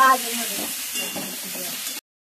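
Spices frying in a pan while potol is cooked give a steady close sizzle, with stirring scrapes over it that stop suddenly after about two seconds.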